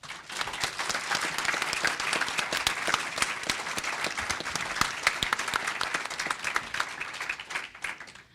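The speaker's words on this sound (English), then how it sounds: "I'd like to really give them a round of applause and thank them" Audience applause for a panel of speakers at a panel discussion, steady dense clapping from a crowd lasting the whole stretch and tapering slightly at the end.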